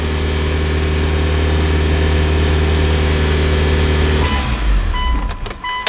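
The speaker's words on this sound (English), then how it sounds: "So you guys saw we got the car to run." Mitsubishi Evo 8 MR running after a motor swap, a steady close idle hum with a strong low drone that breaks off abruptly near the end into clunks and clicks.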